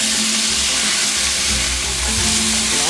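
Tomato sautés with vegetables in a pan for a cod dish, sizzling loudly and continuously while being stirred nearby, with no talking.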